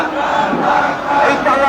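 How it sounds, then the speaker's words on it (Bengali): Crowd of protesters at a street march chanting slogans together, a loud, dense mass of voices sustained throughout with rising and falling surges. "দেখছেন যে আন্দোলনকারীরা বিভিন্ন স্লোগান দিচ্ছে"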